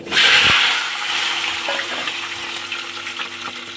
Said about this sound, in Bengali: তেল গরম হয়ে গেছে আমি আলুগুলো ছেড়ে দেবো